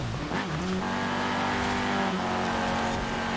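A 1991 Peugeot 205 Rallye in the Forza Horizon 4 video game, its engine droning up and down in pitch as the throttle is eased and reapplied, close and continuous, with tyre noise underneath.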